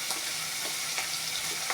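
Fish heads and garlic fry in a little oil in a pan, giving a steady, close, bright sizzle with faint crackles and no voices.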